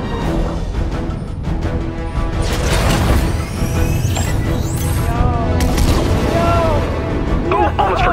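Busy, dense game-battle noise: the Battle Bus's laser cannons zapping energy shots with rising and falling whines, booms and crashes over a loud layered soundtrack.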